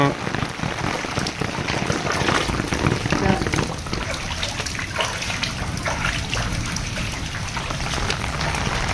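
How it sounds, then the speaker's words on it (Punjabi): Heavy rain pours steadily during a seven-hour downpour that floods streets, pattering on hard surfaces nearby, a dense continuous hiss with a faint voice underneath. "ਸਵੇਰ ਦਾ ਬਾਰਸ਼ ਚੱਲੀ ਜਾਂਦੀ ਆ"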